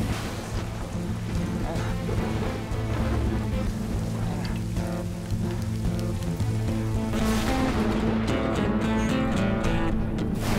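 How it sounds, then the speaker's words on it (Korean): A heavy rain shower pours down after thunder in a film scene set in a narrow canyon, a loud continuous wash under a low rumbling music bed that swells toward the end. "그런데 갑자기 천둥이 치더니 소나기가 내리기 시작합니다."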